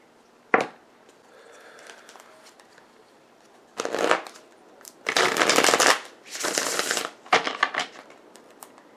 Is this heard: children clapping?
no